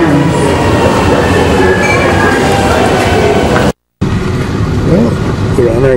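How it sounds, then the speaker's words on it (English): A Buenos Aires subway train pulls into the station near Puerto Madero with a loud, steady rumble of wheels and rail noise filling the platform, a brief cut partway through and faint squeals near the end. "Here comes our train."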